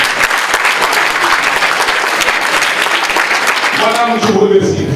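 Audience applause at a book signing ceremony for an author, dense and steady throughout, fading near the end as a voice starts speaking over it.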